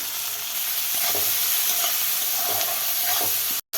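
Vegetables frying with turmeric, salt and cumin-coriander powder give a steady, close sizzle, with soft spatula strokes stirring through the pan before the sound cuts off abruptly.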